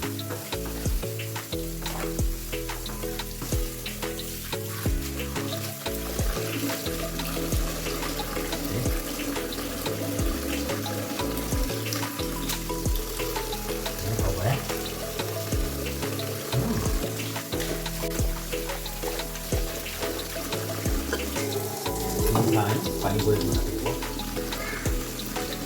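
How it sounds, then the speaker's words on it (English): Tap water runs steadily into a sink while bean sprouts are washed, a continuous close splashing flow carrying on throughout with faint background sounds over it. "So this is the 4th time I'm washing."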